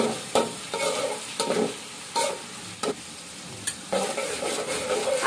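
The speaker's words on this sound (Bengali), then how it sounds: "আদা রসুন গুলো দিয়ে দিলাম" Ginger-garlic paste and onions fry in a pan for chicken masala and khichuri, a steady close sizzle broken by several sharp spatula scrapes and stirring knocks, with no voices.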